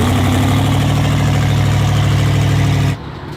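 A custom-built side-by-side UTV running on 91 pump gas idles loudly and steadily up close with a rough, throbbing rumble, then cuts off abruptly near the end.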